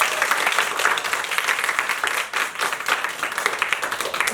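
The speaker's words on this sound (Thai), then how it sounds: "ปรบมือให้ตัวเอง" Sixteen game-show contestants applaud themselves after surviving a mission. The dense, energetic clapping is close and steady for over four seconds.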